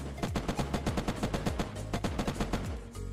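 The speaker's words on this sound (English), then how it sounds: "I will shoot just between them" Rapid automatic gunfire in the video game Unturned, a long steady string of close, loud shots fired between two lockers, with a brief pause near the end.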